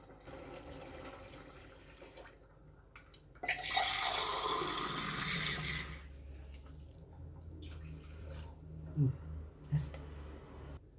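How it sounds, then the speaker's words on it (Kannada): Water is poured into a drinking glass in a home kitchen, a steady rushing pour of about two and a half seconds that stands out against a quiet room, followed by a few soft clinks. "ಅದೇ ಗ್ಲಾಸಲ್ಲಿ ಹಾಕೋತೀನಿ ನೀರು"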